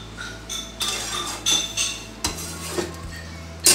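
Potatoes being pressed and mashed in a pan while cooking a Bengali bottle gourd and poppy seed paste dish, with scattered utensil scrapes and clinks against the pan, fairly close and without talk.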